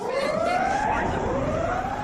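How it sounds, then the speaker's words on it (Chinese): Alarm siren sound effect in a monster drama scene, a loud wailing tone sweeping upward and repeating, continuous and close throughout. "大声警报！"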